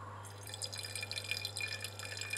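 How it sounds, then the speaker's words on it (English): Liquid pyridine is poured into a laboratory flask, a thin, quiet trickle with small drip-like splashes over a steady low electrical hum. "First we add the 15 grams of pyridine to the flask."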